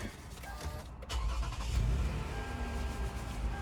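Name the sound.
minivan engine starting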